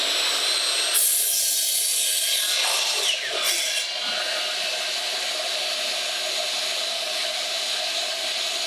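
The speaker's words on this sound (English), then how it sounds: "And I'll turn back on the dust cleaner." Shop dust collector in a woodworking shop, a steady, fairly loud hissing whoosh of air that runs continuously without a break and shifts slightly in tone early on.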